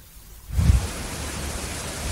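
Strong wind and heavy rain from Cyclone Biparjoy in Rajasthan, a steady broadband roar of gusts and downpour that swells suddenly after a quiet start and then holds loud and constant, with no talking.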